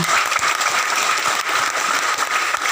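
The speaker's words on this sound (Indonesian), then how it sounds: "Tepuk tangan buat kita semua." An audience claps at a village gathering in Indonesia, with dense, steady applause that stays loud and close throughout and has no voices over it.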